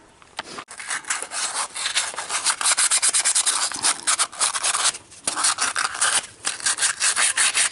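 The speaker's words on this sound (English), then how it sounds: "Now I'm going to sand that first." Sanding a Mercedes-Benz W114/115 headlight by hand: close, continuous rapid back-and-forth rasping strokes, loud and rhythmic, with a couple of brief pauses and no talking.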